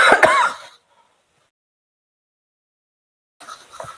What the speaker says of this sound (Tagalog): sorry, nag-ubo-ubo ang lola nyo